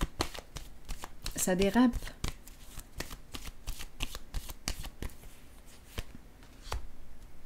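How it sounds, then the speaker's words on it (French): Playing cards are placed down on a table with light, quick slaps and clicks in an irregular rhythm, while a person speaks over them. "Je vais déposer une carte ici encore."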